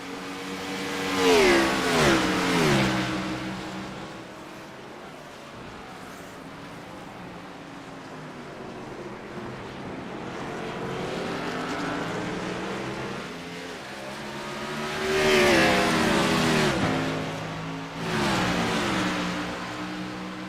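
GTEYE 125 racing karts in a simulated race at Charlotte, engines droning and rising as they accelerate past, loud surges at the start and again near the end over a continuous background hum.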